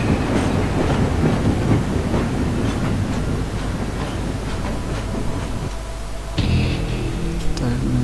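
A train ride in the video game Afterfall: Insanity, with a loud, continuous rumble and rhythmic rail clatter that drops briefly before resuming with a tonal hum.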